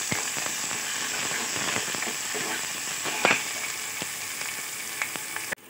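Lentils (urad and chana dal) with green chillies sizzle steadily while frying in oil for kuzhipaniyaram batter. The crackle is dense and continuous, with a few sharper pops near the end and no talking.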